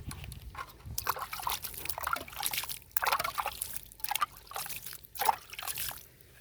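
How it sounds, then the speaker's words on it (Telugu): Water being sprinkled by hand onto freshly planted tubers in soil, an uneven trickle of small splashes and drips that comes and goes close up for several seconds, with no talking. "కొన్ని మాత్రమే ఇలా చిలకరించుకోవాలన్నమాట. ఎక్కువ పోయొద్దు"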